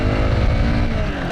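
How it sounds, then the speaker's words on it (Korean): A Honda CBR125 motorcycle pulls away in city traffic as the throttle opens, its engine note a close, steady, rising drone for a brief moment with no talking. "신호가 바뀌면 확인한 다음에 천천히 스로틀 당기고"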